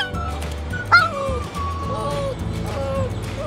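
A puppy adopted from the streets of Mexico barks and yips excitedly near a van under repair, giving high, wavering yelps and whimpers, with one sharp bark standing out among steady background noise.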